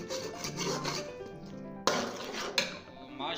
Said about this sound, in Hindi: अभी हमने इनको फ्राई करना है अंडों को अच्छे तरीके से।